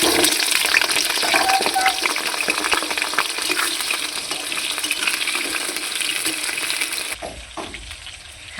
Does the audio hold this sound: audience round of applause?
no